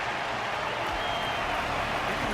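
A crowd applauding a resilient Belabogian fighter at an arena wardance in Honkai: Star Rail, heard as a dense, continuous wash of distant clapping and cheering, steady and unbroken throughout.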